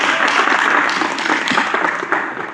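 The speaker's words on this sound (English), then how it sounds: "I think round of applause for Randy Sue." An audience at a legal program on navigating the Bureau of Prisons breaks into loud, close applause, a dense crackle of many hands that tapers slightly toward the end.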